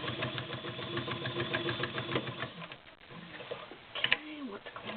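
A vintage White/Domestic model 6478 cam sewing machine with a size 16 needle stitches through five layers of denim, running steadily and fairly close for about three seconds, then slowing into a few labored, uneven stitches as the needle catches.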